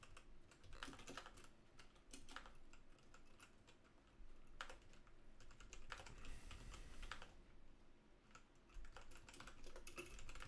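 Computer keyboard typing while writing Python code for a PlayStation 2 game, quiet bursts of rapid key clicks with short pauses between runs, close and faint, no talk.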